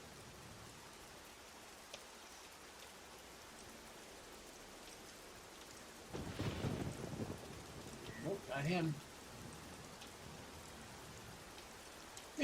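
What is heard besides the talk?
rain in Freeport in the video game EverQuest 2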